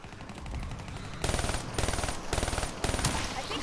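Rapid automatic gunfire from a video game rattles in several bursts, loud and close, with a continuous background of game sound throughout.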